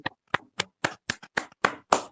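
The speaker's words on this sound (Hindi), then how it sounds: "आदरणीय आज के योगाचार्य महोदय का तालियां बजा करके हम अभिवादन करें।" At a yoga class, a small group gives about nine crisp, evenly spaced claps to greet the yoga teacher. The claps are close and distinct, with silence between each one.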